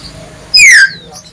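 Birds in a bird shop, with one brief, loud, bright whistled call rising and falling over faint background noise and low murmur.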